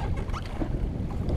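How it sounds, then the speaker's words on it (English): Steady wind gusting across open water around a jet ski drifting while fishing for snapper, a continuous low rushing roar with mic buffeting and no speech. "the wind's got up quite a bit"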